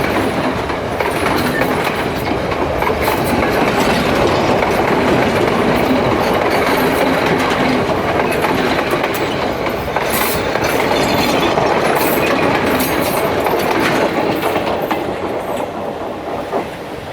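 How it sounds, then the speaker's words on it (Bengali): A train passes a railway station in Colombo, Sri Lanka, rumbling loudly and continuously, wheels clattering rhythmically on the tracks throughout. "দেখেন ট্রেন যাচ্ছে।"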